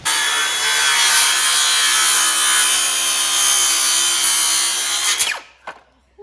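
A cordless circular saw cutting through a long wooden board, a loud, steady high whine lasting about five seconds before the blade spins down and stops, followed by brief clunks.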